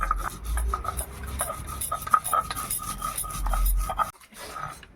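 Mustard seeds being ground into a paste on a stone by hand give repeated rough rasping and rubbing strokes, close and steady, that stop briefly near the end.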